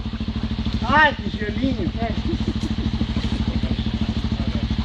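Trail motorcycle engine in water, chugging with a rapid steady pulse close by; a shouting voice cuts in briefly over the running motor.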